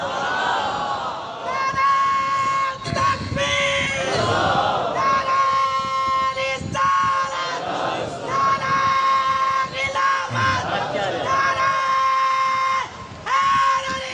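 A large crowd at a religious sermon on the finality of prophethood chants slogans in loud, rhythmic call-and-response waves, with a leader's amplified voice alternating with the massed response over about fourteen seconds.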